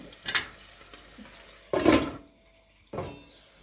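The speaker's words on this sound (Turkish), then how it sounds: "Şimdi yeşil biberimi ekliyorum." Green peppers going into a cooking pot for tirit, a few brief separate bursts of clatter and sizzle with quiet gaps between them.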